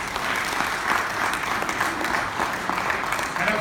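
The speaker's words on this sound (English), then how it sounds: "Big round of applause to them." Audience applause at a golf open tournament ceremony, steady dense clapping from a crowd sustained throughout without pause.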